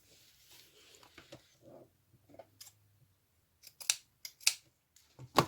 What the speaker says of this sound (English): I'm going to cut this piece off because it's wrinkled.